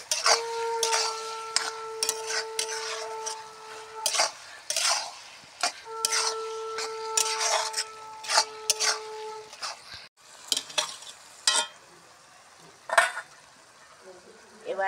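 Mocha ghonto, a Bengali banana flower curry, stirred in a pan with a spoon scraping and clinking against the metal in repeated bursts over a soft sizzle, with a steady tone running through the first part.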